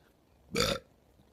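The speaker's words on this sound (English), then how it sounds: "Banana burp. Rice burp." A single close, loud human burp lasting about a quarter second, standing out against a quiet background with no talking.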